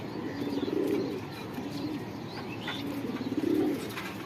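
Pigeons cooing in a loft, low soft coos rising and falling in a few repeated phrases, with faint chirps and background rustle.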